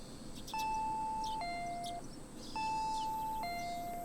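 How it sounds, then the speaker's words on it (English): A two-tone ding-dong doorbell chime from the Higurashi game sounds twice in succession, each a clear high note dropping to a lower one, ringing over a faint background hum. "I heard the doorbell ringing."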